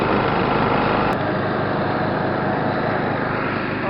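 A 1970s Simplicity Regent lawn tractor mows thick, rich first-of-the-year grass, its small engine droning loud and constant right up close, with no speech.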